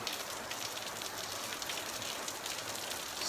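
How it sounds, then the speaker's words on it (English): Steady rain falls during a downpour at a Seychelles holiday resort, a continuous broadband hiss of drops with no break and no talking over it. "Look at this rain."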